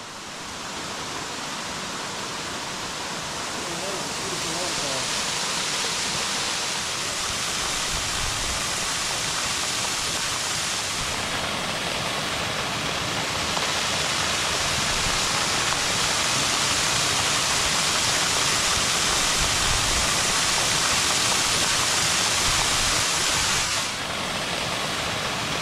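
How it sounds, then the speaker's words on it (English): A waterfall in Clifty Canyon in Alabama's Sipsey Wilderness pours with a loud, constant hiss and rumble, a dense broadband roar that holds steady and fills the whole stretch. "What a beautiful waterfall."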